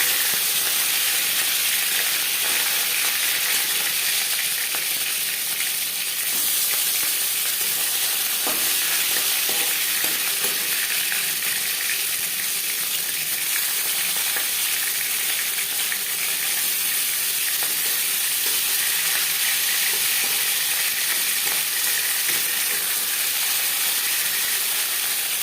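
Fish pieces rubbed with salt and turmeric fry in hot mustard oil, giving a loud, continuous hissing sizzle that stays steady and close for the whole stretch with no voices.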